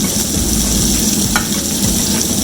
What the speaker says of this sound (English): I'll always put the butter on the side while it's cooking, just so the buttery flavor is still going to be there.